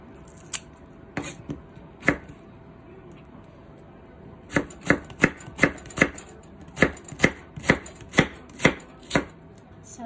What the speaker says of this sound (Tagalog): Tapos, magkakat tayo ng onion.